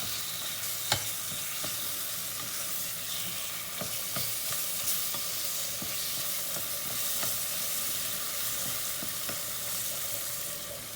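Tomato and pepper paste fries in a pot as it is stirred for a bean and meat stew, an even sizzle broken by regular spoon scrapes and taps against the pot, close and unaccompanied by talk.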